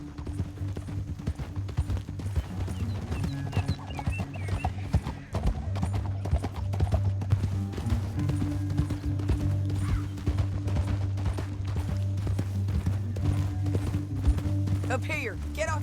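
Horse hooves clip-clop steadily in Red Dead Redemption 2 beneath a low droning score, with occasional faint voices and a horse whinny mixed into the game soundscape.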